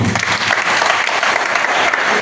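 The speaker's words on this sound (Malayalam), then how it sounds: "കൈയടിക്കണം" Sustained audience clapping fills a church hall at a charismatic family festival at St. Thomas Forane Church, Mattam; dense, even applause from a large crowd, loud and continuous throughout with no voices on top.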